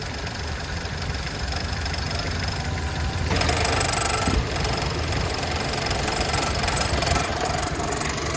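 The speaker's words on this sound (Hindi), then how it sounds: "अब आप देख सकते हो ये फ़ैन हो गया ऑन, ठीक है।" Engine of a used car idling steadily, with the radiator fan switching on partway through after the AC is turned on. The fan adds a brighter whooshing layer over the engine hum, close and continuous, with no talking.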